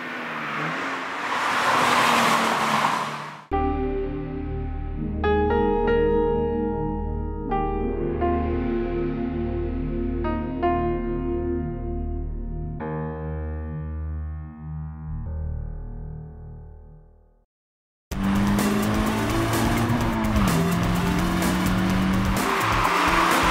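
A Subaru BRZ engine revving hard through the gears on a mountain road, pitch climbing then dropping with sharp downshift blips, with a brief silence before a loud, raspy burst.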